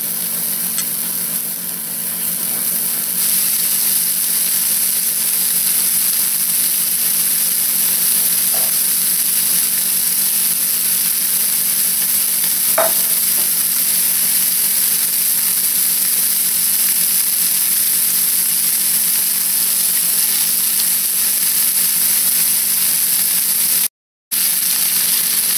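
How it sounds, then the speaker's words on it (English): Meatballs fry in a hot cast iron pan with a steady, even sizzle that holds for the whole stretch, with a few faint clicks and one short break near the end and no talking. "I heat up the cast iron. Then we just go and cook our meatballs first."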